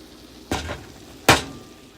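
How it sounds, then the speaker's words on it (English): Diced tomatoes dropping into a hot pan already holding onions and garlic for turkey spaghetti, two sharp splashing hits about a second apart, each trailing into a brief sizzle, close and fairly quiet. "Add my diced tomatoes in here."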